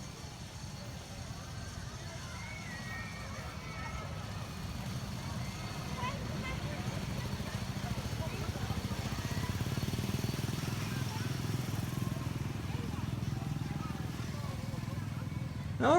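Small antique-car ride engines putter and drone in a low, steady rumble at Knoebels amusement park, running beneath the Phoenix wooden roller coaster's timber structure, with voices talking over the engines.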